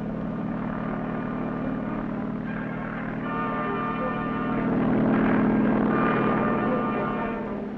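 A carrier-based anti-submarine helicopter gives a steady, droning engine and rotor hum that swells slightly midway, continuous and moderately loud, in a vintage recording with no one talking.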